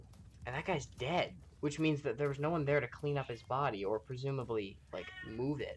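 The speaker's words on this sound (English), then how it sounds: "I'm not sure if you can hear my cat in the background," A pet cat meows repeatedly and loudly in the background of a room while a person talks steadily over it, the cries rising and falling in pitch.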